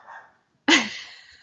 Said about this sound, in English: We are watching my brother's dog.